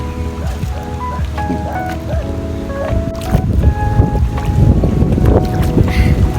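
The strong current of the Daraitan River in Tanay, Rizal rushes in a dense, steady roar close by that swells slightly midway, with faint voices in the background.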